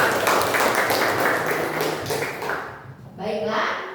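Students in a classroom clap for a classmate, a dense burst of applause mixed with voices that fades near the end before chatter resumes.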